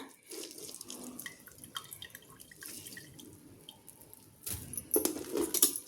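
Water splashes and trickles as it is drained from soaked soya chunks, with wet squelching and a brief louder gush near the end.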